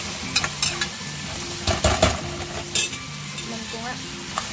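Shrimp frying in butter and garlic in a pan, a steady close sizzle with a utensil stirring and clinking against the cookware in irregular bursts, no talking.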